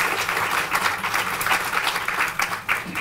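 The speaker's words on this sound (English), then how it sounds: "please give a round of applause for our EMS folks" An audience at a heart and stroke center opening celebration applauds EMS volunteers, with steady, dense clapping filling the whole stretch at close range.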